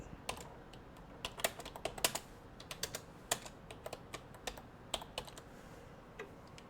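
Close, fairly quiet clatter of typing on a computer keyboard, a quick irregular run of light key clicks with short pauses between bursts, and no voices.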